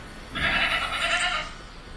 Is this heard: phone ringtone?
no